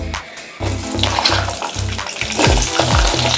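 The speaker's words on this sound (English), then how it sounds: "I have to add some Kalo Zeere, and then I will add the potato." Potato and kalo zeere (black cumin) fry loudly in a hot pan for a sponge gourd dish, a steady sizzle broken by bursts of stirring and splashing, close and alone with no voices.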